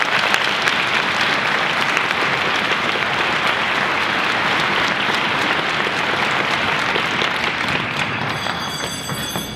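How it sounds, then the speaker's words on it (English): Dense, steady applause from a large audience at a school honors band send-off concert, sustained for nearly ten seconds at full strength and tapering only slightly at the end. "If they're here, just give them a round of applause."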